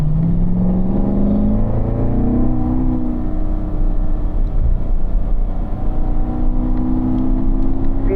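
A car engine drones loudly throughout a lap of a race track, pitch falling and rising as it downshifts and pulls back up through the gears, close and constant with no talk.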